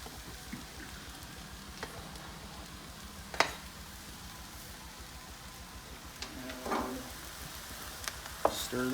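Diced chicken sizzles steadily in a stir-fry pan, a close, even crackle broken by occasional sharp scrapes and clinks of a utensil as it is stirred.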